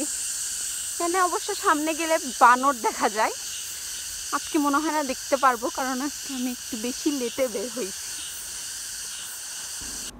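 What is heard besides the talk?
crickets chirping in a hilly park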